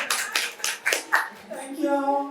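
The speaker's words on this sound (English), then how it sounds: "One round of applause." A conference audience at a panel on trustworthy AI governance gives a short birthday round of applause: a few distinct claps in the first second, then a voice speaks over the fading hands.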